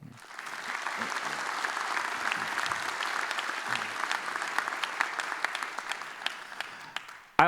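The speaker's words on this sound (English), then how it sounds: "So I want to have a big applause to them for this first day." Steady applause from a conference crowd at a Droidcon developer event opening in Berlin, sustained dense clapping filling the room for several seconds before cutting off sharply at the end.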